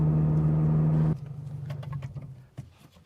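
Subaru BRZ with a muffler-delete axleback exhaust, driving: a loud, low droning exhaust note that cuts off abruptly after about a second, leaving a quieter, uneven rumble.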